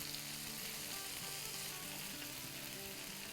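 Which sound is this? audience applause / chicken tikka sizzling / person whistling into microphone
chicken tikka sizzling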